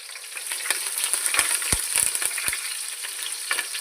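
Hot oil crackles and spatters loudly in a pan as curry leaves go in for sambar, a dense close sizzle with sharp pops, alone without speech.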